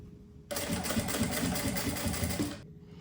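Close sewing machine stitching a seam on a fabric Mickey zip pouch, running steadily for about two seconds with a rapid even needle rhythm, then stopping.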